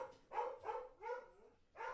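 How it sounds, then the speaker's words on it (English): A dog barks frantically in quick succession, four sharp, fairly faint barks with a slightly distant quality and short pauses between them. "That dog is losing his fucking mind."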